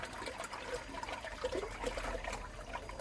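Water runs steadily through a pond skimmer line with the pumps on, a continuous close trickle and gurgle that stays fairly even throughout, with no talking over it.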